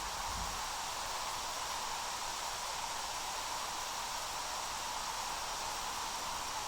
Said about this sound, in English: You guys can hear there is like that static in the background.